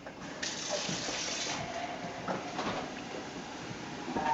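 Water pours steadily into a container, a continuous splashing gush at close range that holds for the whole stretch without a break.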